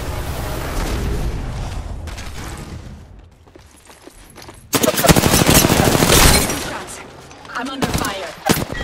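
Gunfire rattles in Apex Legends combat, rapid automatic bursts with heavy booming shots, loud and close, broken by a quieter stretch with faint background game sounds.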